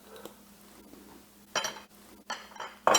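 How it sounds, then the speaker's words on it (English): Vegetables and olive oil being mixed in a cooking pot, with a few bursts of metallic scraping and clinking of a utensil against the pot, separated by quiet pauses. "now we mix the pot, and then we cook the pot"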